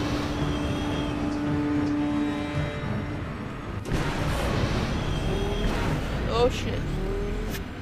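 A swoop bike engine in Star Wars: Knights of the Old Republic roars and accelerates through a continuous rushing race, with a brief sharp change midway and a voice exclaiming over it.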